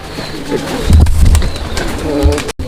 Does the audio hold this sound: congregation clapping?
no